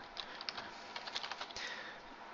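Rapid keystrokes on a computer keyboard as a question is typed, a quick irregular patter of clicks at moderate volume with no voices.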